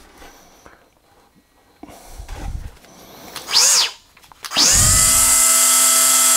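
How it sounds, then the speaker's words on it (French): A small angle grinder fitted with a multi-material disc cuts a metal drywall rail in a bathroom; a short rev, a brief whine, then a loud sustained high cutting screech to the end. "Donc, avec la petite meuleuse hein, et le petit disque multimatériaux."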